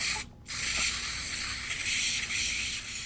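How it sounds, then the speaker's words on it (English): A loud, close aerosol spray paint hisses steadily into a cap, broken by one brief pause near the start, then continues unbroken to the end. "spray some of it out of the can directly into the center of this cap"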